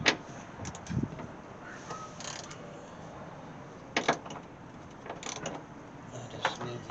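Bolts loosening on the door hinge of a 1968 AMC AMX, heard as scattered metallic clicks and ratchet-like ticks, with a few sharper knocks near the start and middle over a quiet workshop background.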